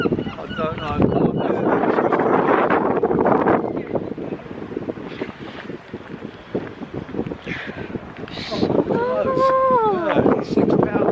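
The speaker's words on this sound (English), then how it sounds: "It's windy." Wind gusts outdoors at Dover Castle, buffeting the microphone with a steady rushing roar under a voice and other people chatting nearby.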